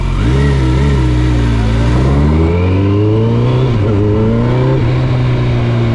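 2009 Kawasaki ZX 1400 motorcycle pulling hard through the gears, its engine loud and close, revs climbing and dropping briefly at each smooth upshift.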